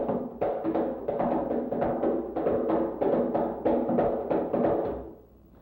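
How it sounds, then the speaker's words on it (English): Raucous finger slaps on an ngalabi, the long drum of an East African drum ensemble, cut through as a fast, steady run of sharp, loud strokes close up, with no pause for about five seconds before they fade out. "It does this with a very raucous finger slap"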